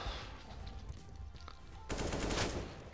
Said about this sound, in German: weil man hört die Schüsse